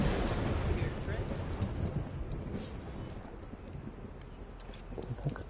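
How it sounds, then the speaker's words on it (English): Rumbling thunder in the video game Horizon Forbidden West, a low rolling boom that fades over several seconds beneath faint game ambience. "I just heard thunder"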